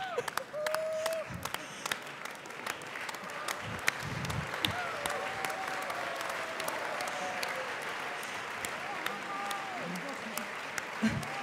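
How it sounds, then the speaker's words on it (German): An audience at a German political campaign event keeps up dense applause throughout, with a few scattered cheers and voices in the crowd. "Ein Applaus für unseren frisch gebackenen Wahlkampfkoordinator."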